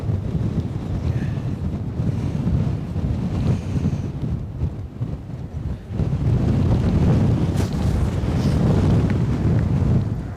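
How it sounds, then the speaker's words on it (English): Strong gusty wind at Edinburgh airport roars and buffets across the microphone in a loud, continuous low rumble, rising and falling with the gusts and peaking in the second half. "wind is kicking up again"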